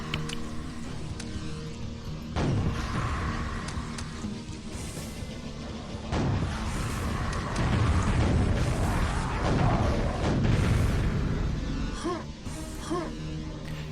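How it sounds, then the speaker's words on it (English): Dense overlapping explosions and crashing blasts from Quake gameplay, loud and continuous, with booms stacking on one another across the stretch and sharp new bursts at several points. "So many stacked explosion sounds"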